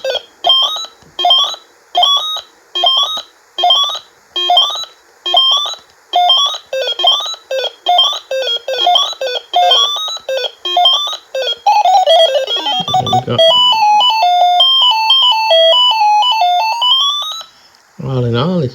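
A 1982 Microgames of America Ms. Pac-Man handheld electronic game plays loud, evenly spaced bleeping tones in a steady repeating pattern, then shifts into a sweeping melodic jingle and a rapid run of high beeps near the end.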